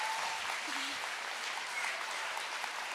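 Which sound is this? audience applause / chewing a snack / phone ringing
audience applause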